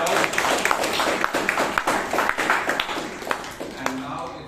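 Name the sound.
audience applause at a Toastmasters meeting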